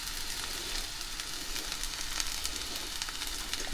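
Beans tossed into a hot pan with onions give off a continuous, even sizzle that holds steady throughout with faint crackles on top.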